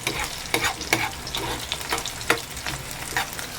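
Water spinach (kangkong) being sautéed in a pan, a steady sizzle and frying hiss broken by repeated sharp scraping strokes of a utensil stirring the greens.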